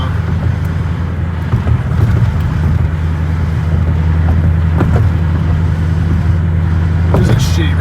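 A 2021 Ford GT500 drives along a rough road, its engine a steady low drone under road and wind noise inside the cabin, with occasional thumps and rattles, while people talk.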